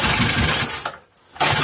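A 3.5 hp Briggs and Stratton small engine is cranked by hand, two loud rough bursts of turning over split by a short quiet gap, never catching.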